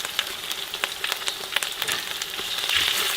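Seasoning for fried flat rice noodles fries in a pan. A close, steady sizzle is punctuated by repeated short scraping clicks as it is stirred, growing slightly louder toward the end.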